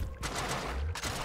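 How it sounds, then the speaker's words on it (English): Glob shots fired from a gun in the video game High on Life, a quick burst of rapid popping shots, then a second burst near the end, under a faint game soundscape. "Let's see these glob shots now."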